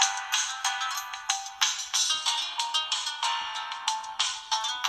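A Bluboo Xfire 2 smartphone ringtone plays a bright, repeating electronic melody with short rhythmic pulses, loud and close, with no voices.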